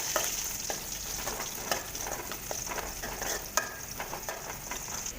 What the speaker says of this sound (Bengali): তেল আমার গরম হয়ে গিয়েছে, এর মধ্যে দিয়ে দিলাম পেঁয়াজ, কেটে রাখা পেঁয়াজগুলো দিয়ে একটু নেড়ে চেড়ে নিচ্ছি